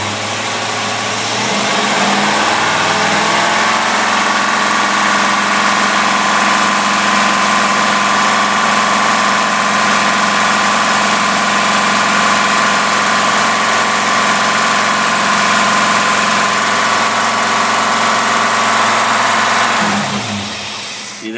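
A car engine fitted with twin 500 cfm AFB carburetors revs up and holds at a loud, steady high rev close by for about twenty seconds, then drops back, with no talking.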